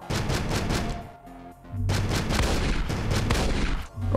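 Shotgun blasts from the video game Astroswarm fire in a loud, rapid run of close booming shots, pausing briefly before another dense burst resumes.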